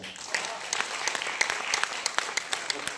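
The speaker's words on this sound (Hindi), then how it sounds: "तालियां उठनी चाहिए" Scattered audience clapping breaks out at a Hindi patriotic poetry recital, sharp individual claps at irregular intervals rather than a full ovation, fairly close and moderately loud.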